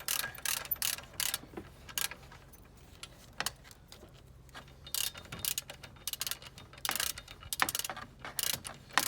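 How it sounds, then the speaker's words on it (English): Close metallic ratcheting clicks come in quick irregular bursts as a wrench loosens the large alternator mounting screw on a 2000 Subaru Outback, with brief gaps of quiet handling between bursts. "this is the big screw that actually holds the alternator in place. So I'm going to start by removing this one"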